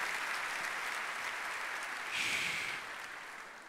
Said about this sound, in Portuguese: Vamos aplaudir esses.